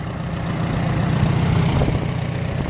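A vintage Farmall H tractor engine idles at close range, a steady low rumble with an even chugging pulse that holds throughout with no voices over it.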